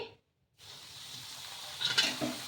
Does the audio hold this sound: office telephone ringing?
no